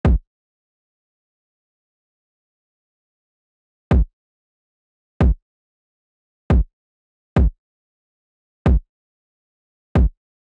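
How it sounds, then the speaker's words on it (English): A sparse UK drill beat kick pattern: seven short, punchy low kick hits in a syncopated, irregular rhythm with silent gaps between, played alone and fairly loud. "the kick pattern ended up sounding like this"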